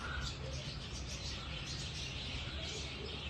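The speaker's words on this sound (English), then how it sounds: "Lovely little black birds. I've never seen these before." Small black birds chirp and tweet outdoors in Bacalar, Mexico, as short, scattered calls over a steady wash of background noise.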